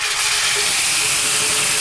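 Hot tomato sauce mixture hisses loudly and continuously in a hot pan, a dense, steady steaming sizzle close by with no voices over it.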